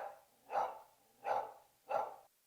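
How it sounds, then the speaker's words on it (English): An Alexa smart speaker plays a dog barking sound: three evenly spaced single barks, clear and moderately loud, with quiet gaps between them. "what does a dog sound like?"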